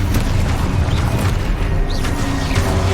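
A fiery Confringo spell blast from Hogwarts Legacy erupts amid dense, continuous spell-combat noise, loud and sustained throughout with no clear pause.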